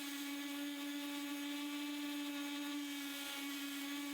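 A power sander whines steadily and loudly on an epoxy table top, holding one droning pitch for the whole stretch without a break.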